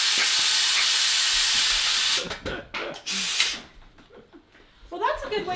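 Steam hisses loudly and steadily while soap is being rebatched indoors, a broad rushing noise that cuts off after about two seconds, followed by scattered clatter and voices talking nearby.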